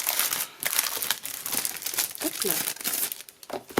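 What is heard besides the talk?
plastic packaging being torn open and crinkled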